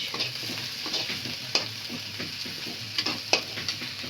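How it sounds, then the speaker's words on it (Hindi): Onions sautéing in a pan for pasta, with a steady close sizzle and repeated stirring scrapes, sharper clinks standing out now and then. "मैं भून रही प्याज"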